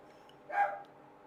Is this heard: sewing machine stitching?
no